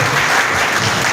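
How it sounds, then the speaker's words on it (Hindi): Loud applause from an audience at a Lions Club honour ceremony for sanitation workers in Gangapur City, a dense continuous crowd clapping, close and sustained. "सुरेश जी शर्मा जय साहब, जोरदार ताली हो गए"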